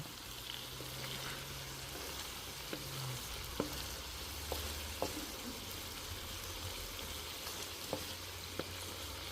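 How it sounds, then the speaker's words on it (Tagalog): Pinakbet vegetables cooking in a pan in a garage, a soft, steady sizzle and frying hiss with occasional sharp clicks of stirring, faint and continuous. "dito ako nagluto ng pinakbet"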